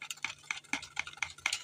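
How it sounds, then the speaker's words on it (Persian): A spoon stirs a homemade dessert mixture in a bowl with quick, rhythmic scraping clinks repeating about four times a second, close and fairly quiet, with no talk. "خب باید ما اینو هم بزنیم تا کامل."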